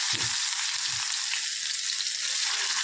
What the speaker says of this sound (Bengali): পেঁয়াজটা ভালো করে ভেজে নিয়ে